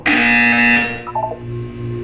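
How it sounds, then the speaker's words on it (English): A loud electronic buzzer in the video game Portal 2 sounds for under a second, then gives way to quieter tonal game ambience, with no talking. "When you hear the buzzer, look up at the ceiling."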